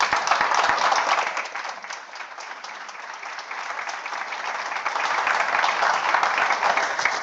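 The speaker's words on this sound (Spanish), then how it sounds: "Yo quiero que empecemos dándoles un gran aplauso" Steady applause from a summit audience in Madrid fills the whole stretch, dense and even, with no voices over it.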